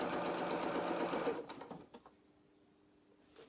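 A sewing machine stitches felt doll bloomers in a fast steady whirring run that stops after about a second and a half, leaving faint clicks and near silence.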